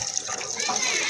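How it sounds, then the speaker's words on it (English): Water from a simple hand pump on a village farm in Northern Ghana gushes and splashes steadily, drawn straight from underground, loud and close. "So it's this simple machine that is pumping the water from the ground."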